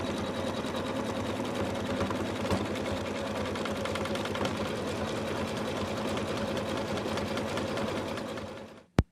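An embroidery machine sews a satin stitch on a Santa hat design, a fast, steady needle rattle and motor hum running continuously for about nine seconds before cutting off with a sharp final click.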